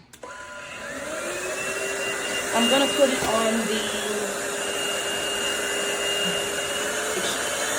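A Roomie Tec SlimVac cordless vacuum cleaner whirs steadily with a high motor whine, and a person speaks briefly over the noise.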